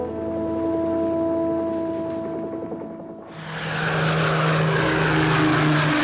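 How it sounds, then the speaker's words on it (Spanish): Republic P-47 Thunderbolt, a World War II fighter with a piston propeller engine, drones loudly and steadily, shifting from a tonal hum to a rougher, broader roar partway through. "Aviación de combate. P-47 Thunderbolt."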